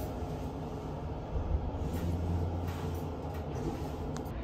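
A Vienna tram rumbles past a street stop, its low steady rail rumble swelling midway and then holding under constant city background noise.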